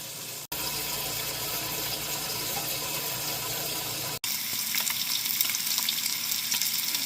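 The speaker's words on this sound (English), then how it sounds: "Listen to that sizzle." Steady, loud sizzling and crackling of bacon frying in a pan, continuous throughout with a brief break, no voices.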